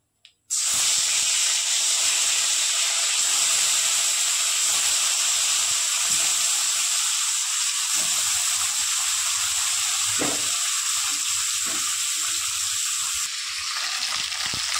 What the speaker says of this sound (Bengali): বাদবাকি মাছগুলো ওই তেলেই ভেজে নেব।